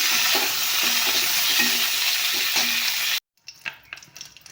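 Cauliflower frying in hot oil in a pan for a Bengali fish curry, a steady loud sizzle that runs continuously, then cuts off abruptly and gives way to quieter clinks and scraping.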